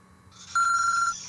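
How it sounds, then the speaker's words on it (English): A mobile phone goes off unexpectedly during a quiz game, its electronic ringtone rising into a bright, loud tonal trill for about half a second before cutting away. "my phone just went off unexpectedly"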